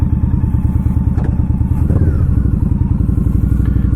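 An Indian Scout Bobber Sixty with ABS rides slowly around a parking lot, its V-twin engine giving a loud, close, steady throbbing rumble with rapid pulsing beats throughout.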